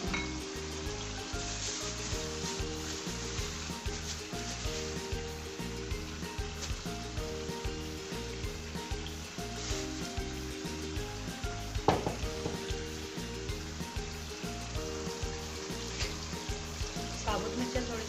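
Bhuna qeema, minced meat, frying in a pan with green chillies and coriander: a steady hiss and crackle of sizzling, with faint stirring scrapes, continuous and close.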